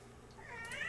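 A pet kitten gives a single faint meow that rises toward the end, set against quiet room background with no talking.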